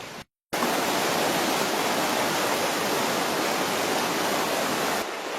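A waterfall cascades down a rocky canyon in a steady, loud, broadband roar that holds unbroken apart from one brief dropout near the start.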